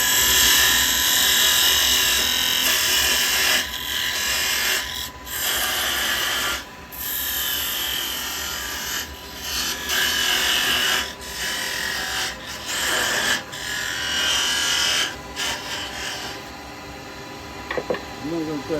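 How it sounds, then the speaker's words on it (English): A steady, loud grinding whir of a parting tool cutting into spinning wood on a lathe, with short breaks and shifts in pitch as the cut varies. "I'm going to get a parting tool. I'm going to go in a little bit."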